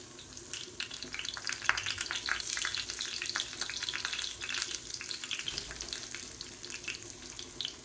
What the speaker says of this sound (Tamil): இப்போ எண்ணெய் நல்லா சூடாயிருச்சு ஒரு நாலஞ்சு கருவேப்பிலையை வந்து அதில் சேர்த்துக்கலாம்